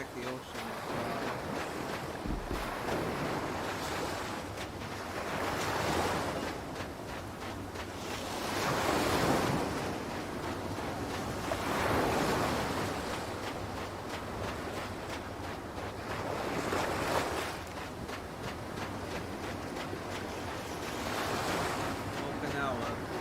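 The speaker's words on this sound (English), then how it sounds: "I'd like to check the ocean as well." Surf washing onto a beach in front of the Morning Glory in Okinawa in Yakuza 4, rising and falling in slow swells every few seconds with a steady wind hiss underneath, continuous and moderately loud.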